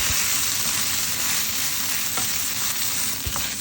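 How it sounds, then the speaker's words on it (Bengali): Taki fish seasoned with turmeric and salt fries in hot oil, a steady, loud, close sizzle and crackle with a few soft stirring knocks, no voices. "তো দেখতেই পাচ্ছেন আমি কীভাবে ভেজে নিচ্ছি। আমি 2-3 মিনিটের মতো মাছগুলো ভেজে নেব।"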